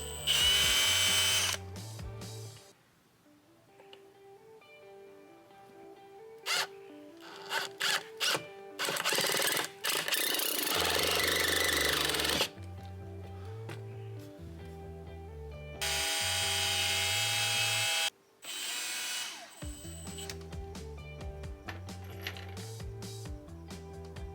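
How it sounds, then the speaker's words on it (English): Loud bursts of a power drill whining and revving while pre-drilling holes in wood boards, interrupted by pauses, with stepped motor pitch changes and mechanical rattling; close by, no talking. "Make sure you pre-drill your holes with a drill bit too so you don't split any boards"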